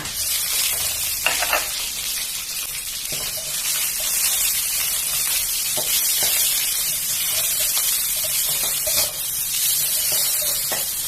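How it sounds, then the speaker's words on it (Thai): Garlic and fresh shrimp stir-fry in three to four spoonfuls of hot oil in a Thai pineapple-shrimp dish, a loud, steady sizzle running throughout with occasional spatula scrapes and clinks. "ผัดกระเทียมให้หอมนะคะ ตามด้วยกุ้งสดค่ะ"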